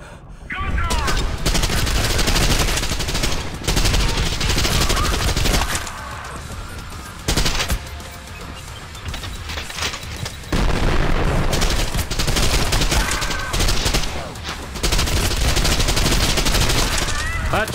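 Dense automatic gunfire in the gory first-person shooter Trepang 2 rattles in long, loud bursts separated by brief lulls, with a voice talking underneath.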